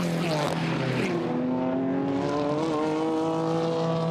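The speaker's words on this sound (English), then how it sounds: "They turn, braking hard for the chicane now." GT4 race cars braking hard into a chicane at Paul Ricard, engines dropping in pitch as they downshift, a loud close roar with a commentator talking over it.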